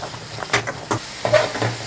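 Carrot, potato and green peas sauté in a pan for vegetable Maggi, giving a soft steady hiss with a few brief scrapes and clinks from stirring, close and fairly quiet.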